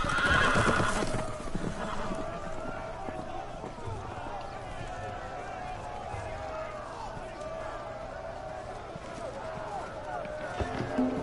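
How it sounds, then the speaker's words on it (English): Horses in a Game of Thrones video game whinny loudly at the start, then hooves gallop and clip-clop continuously beneath shouted voices and game sounds, ending with another brief neigh. "The horses! They're loose!"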